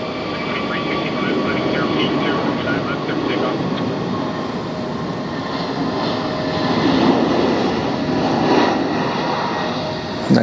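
A heavy jet at Philadelphia airport roars steadily and loudly nearby, a broad rumbling engine wash that swells slightly midway, with faint talk underneath.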